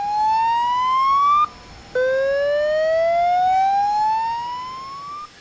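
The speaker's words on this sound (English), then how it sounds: "has an electronic sweeping siren sound, a bit like an old-fashioned air raid siren" A building's electronic evacuation alarm siren, like an old air raid siren, sweeps slowly upward in pitch, breaks off briefly, then begins another long rising sweep, loud and steady.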